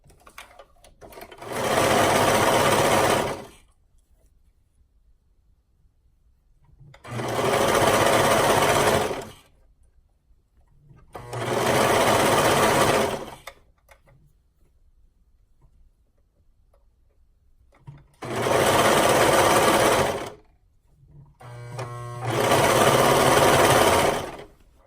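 A sewing machine stitching binding onto a garment runs in five separate bursts of rapid, even whirring, each a few seconds long, with quiet pauses in between and no talk.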